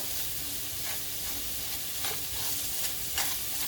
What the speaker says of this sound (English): I'm just going to mash these up and get them stirred up into this grease, this oil